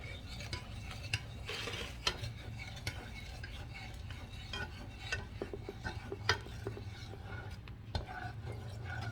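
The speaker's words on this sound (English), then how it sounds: "And that is the mixture in the pot. You keep stirring." A shakoy sugar mixture is stirred in a pot, with soft scraping and occasional clinks of the utensil over a low steady hum, fairly faint, with brief quiet murmurs nearby.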